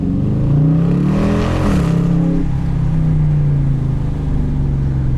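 2018 Dodge Challenger T/A Plus engine revs hard to high RPM, a loud close growl that climbs in pitch, peaks, then drops and settles into a steady high drone with no voices.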